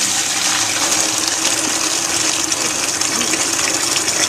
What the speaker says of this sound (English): now, I'm gonna put water in the bucket